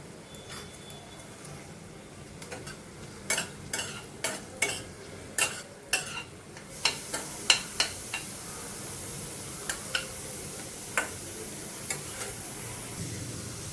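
Onions sizzle softly in a pan while a spoon stirs and scrapes them in irregular bursts, a faint frying hiss underneath the sharp clinks and scrapes.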